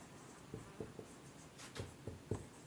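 Pen or pencil writing on paper during a class 9 chemistry lesson, a few short faint scratchy strokes in two brief clusters, close by, with no speech.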